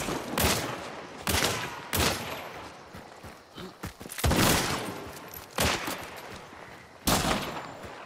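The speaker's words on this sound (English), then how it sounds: "Nice Lamat shotgun." Video-game shotgun blasts, several sharp loud reports spaced irregularly about a second apart, with smaller thuds and movement noises between them.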